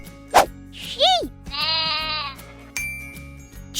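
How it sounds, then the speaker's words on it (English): A sheep bleats once, a clear wavering bleat up close, set among short cartoon-like sound effects and chimes. "Sheep."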